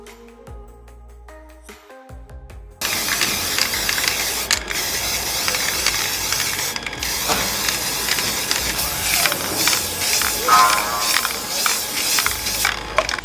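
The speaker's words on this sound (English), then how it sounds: "So I'm just going to spray paint them." Spray paint hisses steadily onto shelf brackets, a continuous close aerosol spray with brief pauses. Earlier there is a quieter mechanical rattle.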